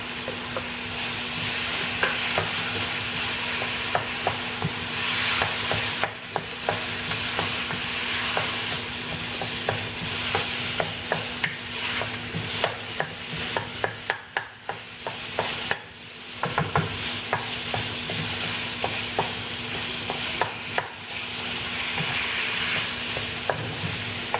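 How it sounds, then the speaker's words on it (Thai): Red curry paste stir-fried in a pan for a Thai stir-fried chicken with pickled bamboo shoots, a steady loud sizzle running throughout, with repeated scraping strokes of a utensil against the pan. "ใส่พริกแกงลงไปผัดเลยนะคะ เป็นพริกแกงแดงนะคะ"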